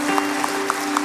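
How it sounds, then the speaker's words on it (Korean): A church congregation claps steadily during a worship service, a dense wash of applause with a faint constant hum underneath. "이 시간에 감사의 박수로 한번 화답했으면 좋겠습니다"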